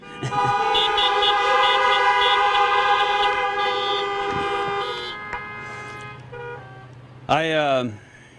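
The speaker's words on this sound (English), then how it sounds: "So honk if you're happy." Car horns honk at a drive-through graduation, with long sustained blasts overlapping for several seconds, then a brief gap and a short, loud, pitch-bending toot near the end.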